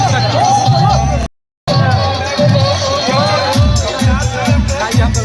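A packed village crowd gathers in a rain-soaked field at a Ravan Dahan effigy-burning event in Kashopur, Sakra, producing loud continuous hubbub and babble with scattered cheers, broken by a brief silent gap.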